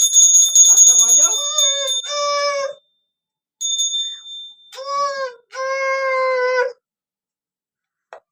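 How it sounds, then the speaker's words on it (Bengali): Ringing tones during a home puja: a bright metallic ring at the start, then several sustained wailing, harmonic blasts with pauses between, likely a conch, alone and fairly loud. "এবারে ঘন্টাটা বাজাও, ঘন্টাটা বাজাও"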